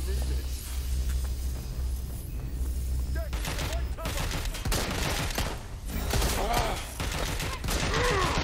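Covering fire in Watch Dogs: Legion: rapid bursts of gunshots cracking in clusters over several seconds, mixed with game ambience and mechanical clatter.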